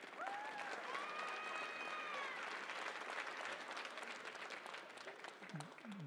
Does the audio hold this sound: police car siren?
no